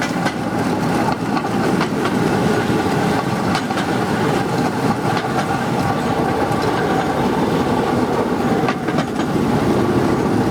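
A railway handcar (drezina) riding narrow-gauge track in the rain, a steady loud rumbling roll with rhythmic rail clicks throughout, close and continuous.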